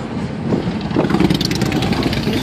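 Motorcycle engines idle and rumble together during a beach-town bike week, a steady, fairly loud mechanical drone with no talk over it.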